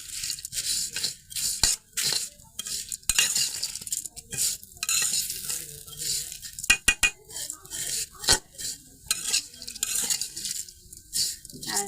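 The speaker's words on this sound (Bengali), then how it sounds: "সেমাইটা একটু ভালোভাবে ভেজে নেব এখন" Lachha semai vermicelli is stir-fried dry in a pan over low heat, a spoon scraping and clinking against the metal in irregular bursts with a faint crackle between strokes.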